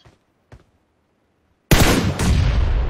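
A bomb explosion in a multiplayer video game: after two faint ticks, a sudden loud close blast bursts in and its rumbling noise holds to the end, with no talk.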